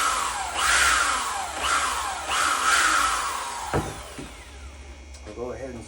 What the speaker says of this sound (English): Let's go ahead and tap a hole right here